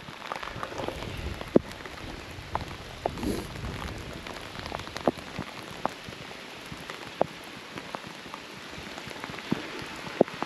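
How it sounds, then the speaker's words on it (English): Heavy rain falls steadily outdoors along the Göta Canal in Sweden, a dense close hiss with scattered louder drops striking a nearby surface. "because it's raining too much to make video here."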